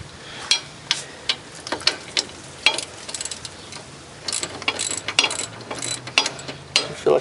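A ratchet wrench with an 11/16 socket backs out the rear strut bolts on a 2000 Toyota Corolla: close, crisp clicking in quick bursts with short pauses between, no voices.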